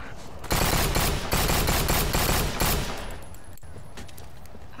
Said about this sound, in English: I don't know how the pistol's louder than the machine guns.